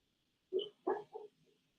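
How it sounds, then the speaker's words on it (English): A dog lets out a few soft, muffled barks and yips in its sleep, three short bursts followed by a faint whimper, close by in a quiet room. "He's sleeping and barking in his sleep."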